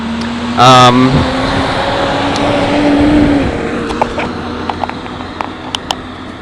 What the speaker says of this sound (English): sorry about that, another loud truck